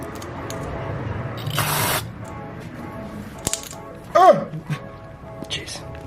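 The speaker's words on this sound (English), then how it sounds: "Spraying." Fluid spraying from a pressurised line on a custom Datsun 280ZX after a fire, a short loud hiss burst, followed by scattered clicks, a sharp tap and a brief squeaky whine, with quiet background noise.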